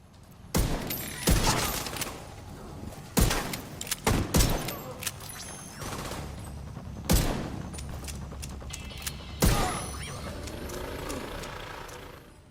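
Diamondback rifle gunfire in the video game Division 2, loud sharp shots in scattered bursts and single cracks over a steady rumbling game background, with a brief lull near the end.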